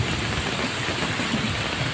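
Steady heavy rain pours down outdoors in a continuous broadband hiss, with no voices.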